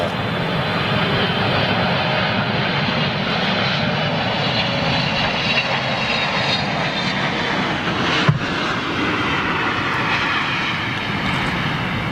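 Jet engines of a Suriname Airways Airbus A340-300 roar steadily and loudly throughout, close by and unbroken, with one brief thud partway through.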